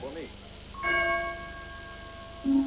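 A doorbell rings once with a bright, sustained chime that rings out and fades over about a second, followed by a faint low tone near the end.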